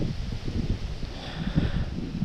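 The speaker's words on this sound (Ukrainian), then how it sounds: "Ого, який вітер роздувається." Strong wind blows outdoors at a fishing spot and buffets the microphone, making a steady rough rush with low rumbling gusts for a couple of seconds. No one speaks.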